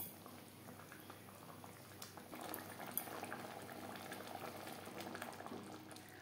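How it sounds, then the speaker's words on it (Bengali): Kadhi curry with pakoras boiling in a pot, a steady quiet bubbling and popping close by, with no talk over it. "কারির সাথে পাকোড়া 1-2 মিনিট ফুটিয়ে নেব।"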